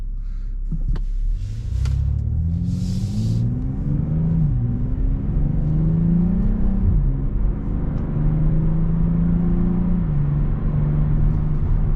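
A BMW M340i with a 380 hp engine accelerating on a night drive, a steady loud engine drone rising in pitch through several gears with brief dips at each shift, heard from inside the car.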